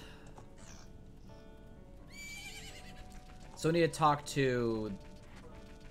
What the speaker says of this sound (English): Isn't that your horse?